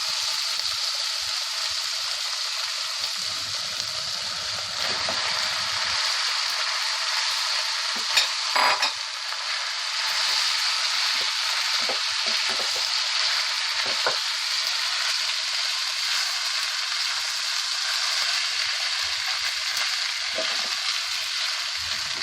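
Boiled pasta fries in a pan with a steady, bright sizzle that runs the whole time, with a few scrapes and clanks from stirring, heard close and alone.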